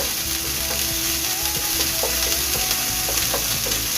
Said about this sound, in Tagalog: itong bawang maluto natin. Bawang. Sunugin natin mga ka-vlogs para medyo yung aroma niya mabango.